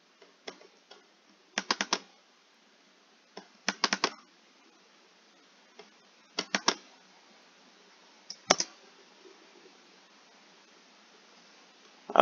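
Keystrokes on a computer keyboard come in short clustered bursts of clicks with quiet gaps between, close and fairly faint, with no talking.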